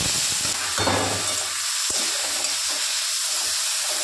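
Washed dried shrimp frying in mustard oil, giving a steady loud close sizzle and hiss with stirring sounds throughout, no talk.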